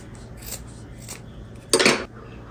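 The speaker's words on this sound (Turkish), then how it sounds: "ucunu aynı boyda kesiyorum." Scissors trim the yarn ends of a handmade tassel: a couple of faint snips, then one louder, closer crisp cut near the end, in a quiet room.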